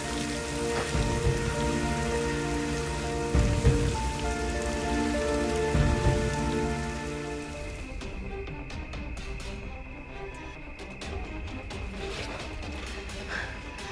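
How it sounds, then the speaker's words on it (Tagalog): Heavy rain pours steadily onto surfaces outdoors, a dense continuous hiss with scattered drips and splashes, joined by a faint tonal hum and a few low thumps early on. "Ang lakas ng ulan."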